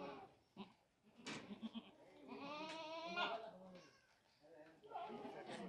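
A goat bleats repeatedly during the delivery of her kids, giving several wavering, fairly close cries while a person talks over and between them.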